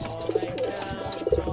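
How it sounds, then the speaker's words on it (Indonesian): Pigeon cooing heard up close from inside a small blue-doored animal hutch on a long livestock truck, soft repeated low coos with some rustling and no talk. "Wah, ini burung merpati ya."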